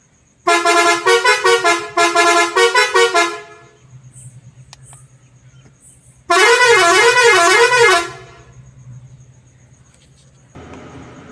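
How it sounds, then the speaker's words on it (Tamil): A loud air horn on a Mahindra BS6 truck blasts in two long, pulsing tone patterns, then after a pause a third rising-and-falling blast sounds, with a low engine hum between. "இப்போ ஹார்ன் அடித்து அமைக்கிறோம்."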